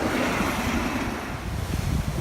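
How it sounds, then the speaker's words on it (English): Blustery Atlantic surf rolls continuously onto a beachfront, a dense broadband wash of breaking waves mixed with wind noise, loud and close with no voices. "It's the same waves as last night."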